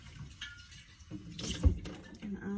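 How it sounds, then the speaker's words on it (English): Hot tap water rinses a freshly washed glass jar, running unevenly with louder splashing bursts and a few drips partway through, fairly close by. "I'm going to go in here and rinse it off with some hot water"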